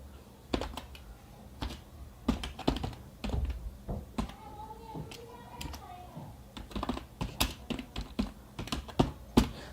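Keys clack on a computer keyboard as a command is typed, in irregular bursts of sharp taps with short pauses between them, close and fairly quiet.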